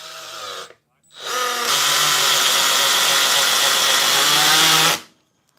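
A Milwaukee M12 cordless ratchet at speed 2 drives a screw: a brief motor whir, a short pause, then a sustained steady whine lasting about four seconds before stopping, loud and close.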